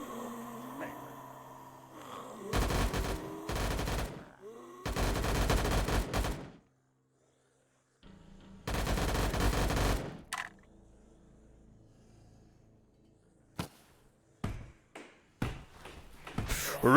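Bursts of rapid automatic P90 gunfire in the VRChat game, three long sustained volleys separated by gaps, followed by a few sharp single clicks and taps, with faint background voices at the start.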